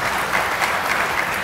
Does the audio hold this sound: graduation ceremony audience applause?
yes